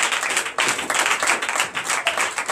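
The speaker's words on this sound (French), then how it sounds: "Je donne l'acclamation." A church congregation breaks into dense, continuous applause of many hands clapping together, loud and close, with slight swells throughout.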